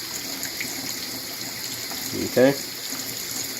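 Water is poured into a standalone aquaponics bucket system, a steady soft rush of liquid running throughout while someone briefly says a word.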